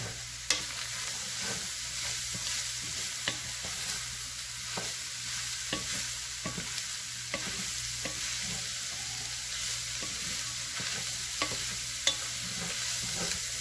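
Peppers and onions soften in a pot for chili under a steady, moderate sizzle, with repeated soft scrapes and taps from stirring scattered throughout, close up and without talk.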